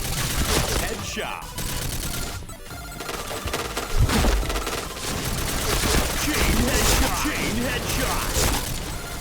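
A SCAR Recamo rifle fires in the Point Blank shooter game as dense, near-continuous bursts of gunfire mixed with impact and clatter sounds, while a person talks excitedly over it.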